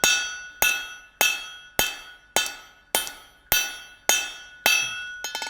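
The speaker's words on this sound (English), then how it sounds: "this is forging down to roughly 20 mil thick" Eight evenly spaced hammer blows ring on an anvil as a hot chisel is forged thin, each a sharp metallic strike with a bright ringing tail, followed by a quick flurry of lighter taps at the end.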